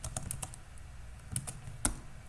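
Someone types a sudo apt command on a computer keyboard: sparse, quiet key clicks in small uneven bursts, close to the microphone with faint room hum behind.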